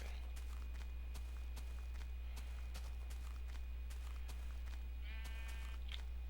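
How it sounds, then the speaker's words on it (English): A sheep bleats once in the Minecraft video game near the end, a short wavering cry that stands out over quiet background hum and a series of soft, regular footstep-like taps. "Pink sheep."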